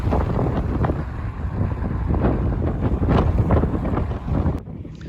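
Strong wind buffets the microphone in loud, rumbling gusts on a December estuary walk, with faint traffic-like noise underneath, dropping off sharply near the end.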